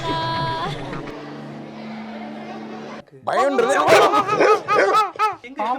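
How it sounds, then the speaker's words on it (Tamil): After a few seconds of droning background noise, a nearby dog breaks into loud, rapid barks and yelps. "நாய் சத்தம் கேட்டோன்னே தம்பி பயந்து"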